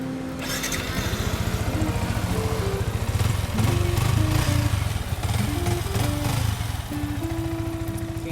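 A 2018 Yamaha YZF R15 motorcycle in original condition with about 27,000 km idles nearby, its single engine putting out a steady, even pulsing rumble for several seconds with small rises in revs, no voices.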